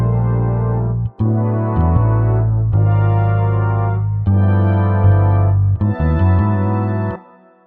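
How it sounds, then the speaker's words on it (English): A beat built on a bass line played through the Modal Bass 2 plugin, with steady rhythmic bass notes looping over drums, loud and continuous with a short dropout near the start. "I went ahead and played the bass too."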